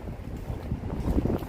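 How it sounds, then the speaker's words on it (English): Cold January wind gusting by the Chicago River and Lake Michigan, buffeting the microphone with a steady low roar and rough fluttering bursts, no voices heard. "It's getting windy."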